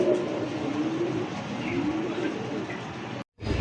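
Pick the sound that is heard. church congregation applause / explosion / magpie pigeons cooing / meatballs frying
magpie pigeons cooing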